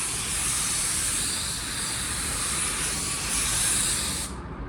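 Spray gun laying down a light metallic drop coat of automotive paint, a continuous loud airy hiss lasting over four seconds before cutting off abruptly.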